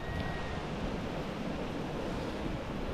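Ocean waves wash continuously along the seaside before dawn after a typhoon, a steady, soft, broadband rush with no distinct breaks and no voices.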